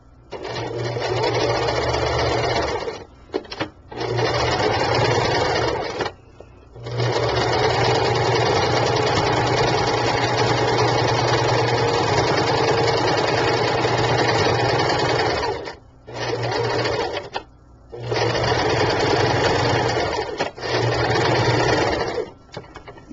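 A sewing machine stitches a shabby chic sachet bag with a loud, close, whirring hum that runs in long stretches. Brief stops break up the stitching, which includes quick back-and-forth passes.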